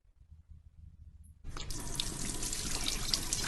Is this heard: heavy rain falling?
no